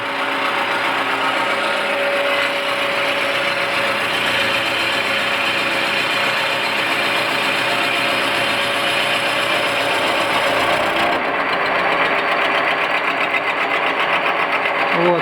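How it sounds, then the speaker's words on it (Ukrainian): A loud, continuous high-pitched whine of a router milling wooden pads, running steadily, cutting off briefly near the end before resuming. "Тому перед тим, як їх шліфувати, я їх профрезеровую."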